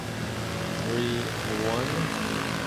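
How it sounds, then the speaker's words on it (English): A Manila–Tagbilaran airliner takes off from a runway at Manila International Airport during a typhoon, giving a continuous, broad engine roar with a voice talking over it. "So we have this Manila Tagbilaran flight taking off on runway"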